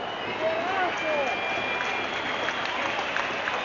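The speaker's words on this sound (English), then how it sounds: "And gets generous applause." At a 1991-92 UEFA Cup quarter-final between Genoa and Liverpool, a distant stadium crowd gives steady, generous applause as an injured Liverpool player limps off, a muffled broadband wash beneath a commentator's voice.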